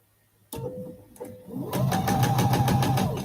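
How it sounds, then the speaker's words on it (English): After a couple of short mechanical clunks, a sewing machine starts up and runs in a fast, steady stitching rhythm, close by. "I'm going to use my sewing machine"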